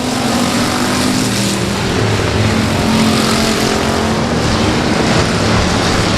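Race cars racing at Timberline Speedway, a loud, continuous roar of several engines blending together without a break.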